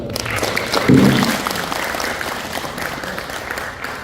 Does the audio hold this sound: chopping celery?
no